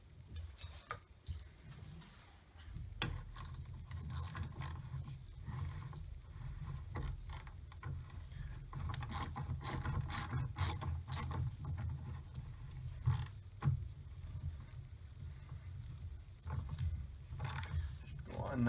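A wrench works on a car's battery hold-down clamp, pressing the battery back toward the firewall, with soft ratcheting clicks, taps and metallic knocks close by over a low rumble.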